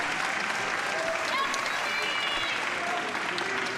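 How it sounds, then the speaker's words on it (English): Crowd of fans at the Classic Tetris World Championship applauding steadily, a dense wash of clapping that holds at even strength throughout with no voices rising above it. "Fans applauding Scuti for getting out of that."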